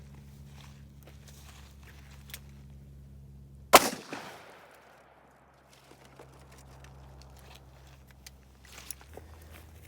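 A single sharp shot from a Smith & Wesson Model 69 revolver into a water jug, one loud crack with a splashy burst that quickly decays, set against quiet outdoor background with faint footsteps and rustling.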